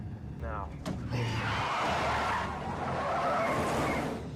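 Car skidding and flipping off a bridge in Prison Break: a sharp impact followed by a harsh, sustained tire skid and scraping roar, with a voice talking over it.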